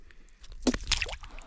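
Brook trout slipped back into icy water on a first-ice fishing outing, making a brief, soft wet splash and squish, faint and close, with no talking.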